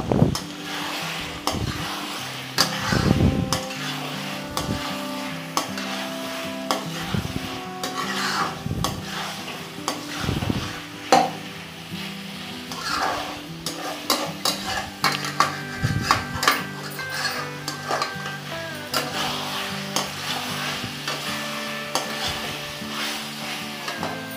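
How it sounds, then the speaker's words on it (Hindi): A spoon scrapes and clatters against a pan as chicken masala gravy with fresh coriander leaves is stirred and roasted. A soft sizzle runs underneath the repeated stirring strokes, and no one speaks. "अब हम इस पर डालेंगे हरा धनिया पत्ता ये हमने हरा धनिया पत्ता ऐड कर दिया और इसे भून लेंगे"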